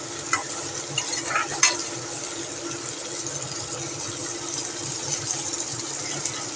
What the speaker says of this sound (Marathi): टॉमॅटोसुद्धा थोडा नरम होईपर्यंत आपण थोडासा तेलामध्ये परतून घेऊयात